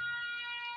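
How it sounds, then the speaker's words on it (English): A siren in the video game Mental Hospital V, a steady electronic wail, moderately faint and alone for under a second. "That's the sound of the siren in this game."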